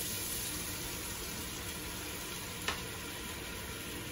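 Soy sauce going into a hot pan of charred winter squash: a steady, quiet frying sizzle throughout, with one brief crackling flare partway through.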